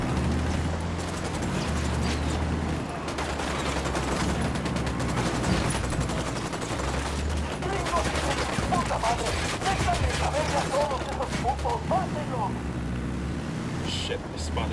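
Gunfire in the video game Ghost Recon Wildlands, a dense, continuous fusillade of rapid shots and mechanical clatter running through the whole stretch beneath a steady game soundscape.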